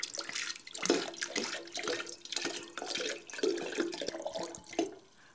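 A litre of water is poured into a container, a splashy, gurgling stream that rises and falls in bursts before tapering off at the end.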